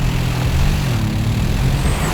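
A Bentley Continental GT Speed's 4-litre V8 engine rumbles steadily and loudly on track, a deep sustained drone with no voices over it.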